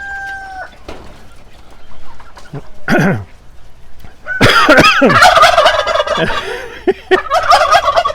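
Turkeys gobble in loud, rattling bursts, several birds close by, with clucks between the calls and a brief whistle at the start.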